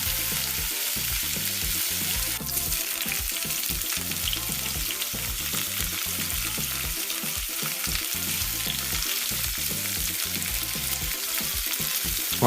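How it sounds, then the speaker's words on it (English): Mixed vegetables and whole kernel corn are stirred into a pot for a curry coconut corn soup, giving a steady, continuous sizzle and stirring scrape throughout with no talking. "Just gonna add our fresh harvest mixed vegetables. Freshness. And our fresh harvest whole kernel corn."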